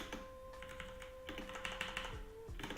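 Fingers type on a computer keyboard in quick, irregular clusters of soft clicks and taps. The typing is close but quiet, with a faint steady tone running underneath and no talk.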